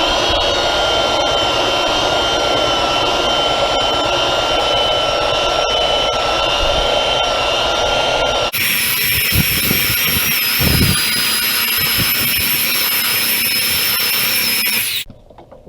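A 9 amp 4.5 inch angle grinder with a coarse 36 grit disc strips a wooden deck, roaring loud and steady at close range before its tone shifts higher partway through, then cutting off at the end.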